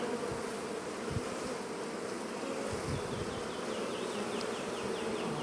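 Bees swarm around a cat house, producing a dense, continuous buzzing hum, close and steady, with no voices.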